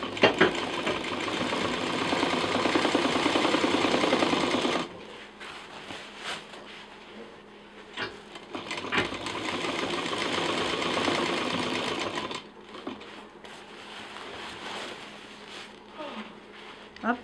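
A sewing machine stitches fabric for a handmade table runner in close, rapid whirring runs that stop and start, with quieter pauses in between where someone talks.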